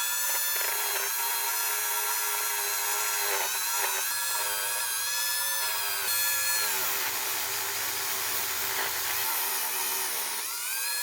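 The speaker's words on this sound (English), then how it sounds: "I'm going to take the Dremel and clean these things up" Dremel rotary tool cleaning carburetor parts from a 1974 Ford F100: a high, whining spin that rises and dips in pitch as it presses against metal, loud and continuous throughout with no talking.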